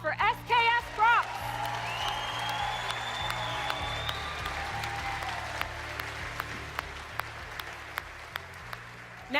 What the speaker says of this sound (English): let's give a round of applause for SKS Props